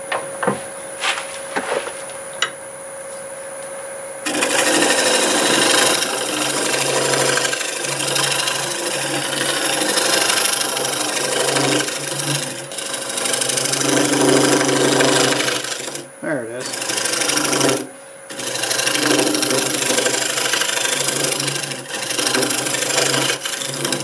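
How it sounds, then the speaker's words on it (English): Loud, continuous rasping scrape of a negative rake scraper cutting spinning apple wood on a lathe, steady with a few brief breaks, over the hum of a running motor. "use a negative rake scraper for that"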